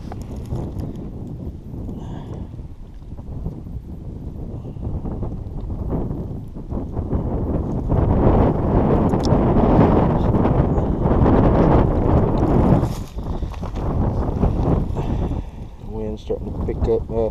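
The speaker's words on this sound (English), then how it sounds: "There's be a front coming through, so it's a little bit windier today" Gusty wind buffets the microphone below a river spillway on a blustery day as a front moves through, a loud, rumbling roar that swells toward the middle, with a voice speaking over it at times.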